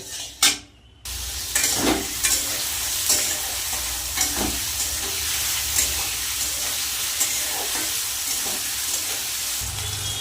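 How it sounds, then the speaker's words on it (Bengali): Potato slices fry in hot oil left over from frying luchi, a loud steady sizzle broken by repeated scraping knocks of a spatula stirring the pan, after a brief pause at the start; no speech. "এই তেলের মধ্যে কিন্তু আমি আলুটা ভেজে নেব আলু ভাজাটা করে নেব"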